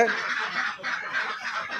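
Domestic ducks kept for eggs quack and honk in a steady, close chorus, several birds calling at once with overlapping nasal cries that barely pause.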